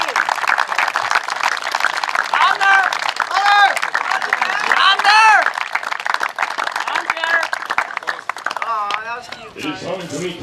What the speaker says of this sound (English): Let's have one last round of applause for the 11 members of this year's senior class for the Metamora baseball